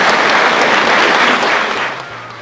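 An audience gives sustained applause for the Volyn folk choir at a city event in Lutsk, a dense, even wash of clapping that fades out toward the end.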